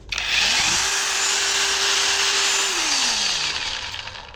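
A cordless 5-inch battery angle grinder spins up, holds a smooth, steady whine at one speed for a couple of seconds, then winds down, loud and close with no talking.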